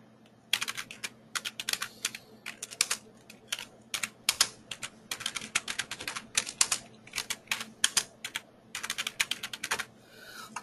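Rapid bursts of typing on a computer keyboard, clusters of crisp key clicks separated by short pauses, close and fairly quiet, with no talk.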